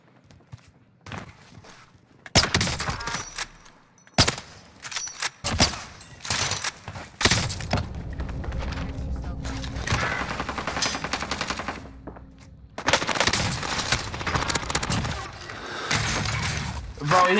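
Bursts of video game gunfire from a Warzone battle, sharp repeated shots and rapid fire coming in clusters with gaps between, loud and close, with glass-like shattering and voices talking at moments.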